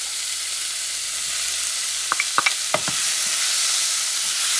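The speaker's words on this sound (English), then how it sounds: "And I'm going to saute this baby together for a few seconds" Tomatoes and onions sauté together in a pan for wild boar, a steady broad sizzle under a few sharp stirring clicks and scrapes of the utensil, close and alone with no talk.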